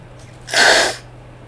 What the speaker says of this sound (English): Sorry, I'm suppressing a sneeze here.